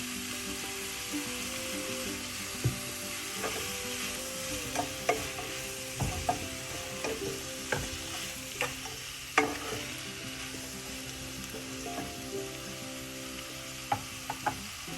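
Masala ingredients sautéing in a pan for a quail egg curry, with a low, even sizzle and intermittent clicks and scrapes of stirring through the fifteen seconds, fairly quiet and free of speech.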